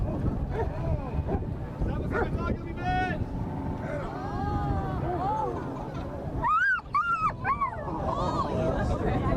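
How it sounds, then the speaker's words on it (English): A muzzled police dog whines and whimpers in high, rising cries, louder near the end, over a steady engine hum and background chatter at an airport open house. "The Canine Pico wants nothing better than get that muzzle off right now"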